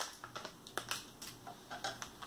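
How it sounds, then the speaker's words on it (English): A series of quiet, crisp snips and crinkles, close up, as scissors cut through a crackling plastic bag of Lay's wavy potato chips in irregular bursts. "I'm gonna do it using my scissors."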